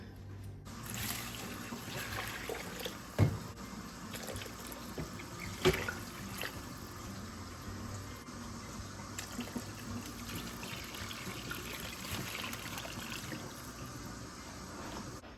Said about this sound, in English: So now I'm just gonna cover everything in water.